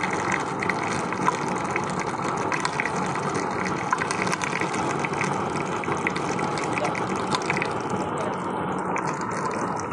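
Used cooking oil being poured into a hole in a used-oil cooking stove, a steady close gushing and gurgling stream that continues unbroken throughout.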